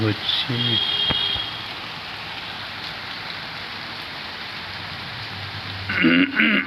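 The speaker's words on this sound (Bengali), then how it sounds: "কত বৃষ্টি" Rain falling in a steady, moderate hiss, with people talking briefly at the start and again at the end.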